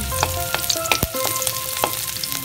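Garlic sizzles and fries in a pan for sautéed mung bean sprouts, a close, continuous crackling sizzle with occasional stirring scrapes and pops, and no talking.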